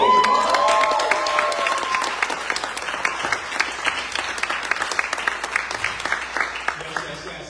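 Audience at a poetry book launch applauds and cheers loudly, dense clapping with whoops early on that thins into scattered claps toward the end.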